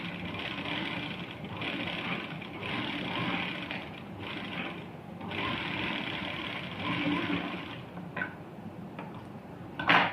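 Domestic sewing machine stitching a cloth salwar seam, a steady rapid mechanical whirring that runs continuously for several seconds, pauses briefly, then resumes with a few clicks and knocks.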